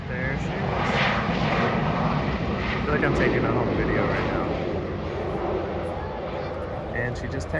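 An airplane landing at an airport, a steady loud engine roar and rushing air that holds for several seconds, heard from a distance with no talk.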